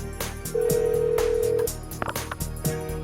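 A phone dials in Persona 4 Golden, with a sustained tone and short beeps over quiet game music.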